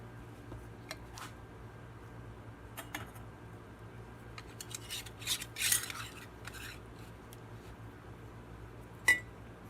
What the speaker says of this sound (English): Next, I put the lid on it, screw it down.